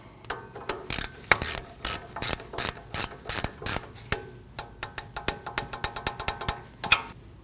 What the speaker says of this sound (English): Install our nut. You want to torque that nut down to 16 foot-pounds.